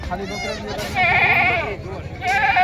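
Goats bleating at a crowded goat market, a couple of wavering calls rising over continuous nearby talk and market bustle.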